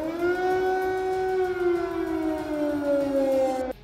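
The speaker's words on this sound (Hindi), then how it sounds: "वहां के कई शहरों में खतरे के सायरन भी सुनाई दिए थे" An air raid warning siren sounds in a Ukrainian city, a loud sustained wailing tone that slowly falls in pitch and then cuts off abruptly near the end.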